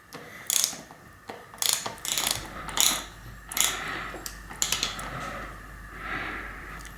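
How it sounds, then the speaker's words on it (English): A wrench ratchets in short clicking bursts as it tightens a cap on a Suntour bike fork, close and crisp, with brief pauses between several turns. "I'll use my wrench to tighten it in."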